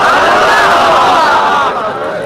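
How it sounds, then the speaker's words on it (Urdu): A huge crowd at a nighttime Shab-e-Barat religious conference in Hyderabad, a loud, dense roar of massed voices that stays strong and sustained throughout, then eases slightly near the end. "یہاں پر جو ٹھاٹے مارتا ہوا انسانی ہجوم ہے"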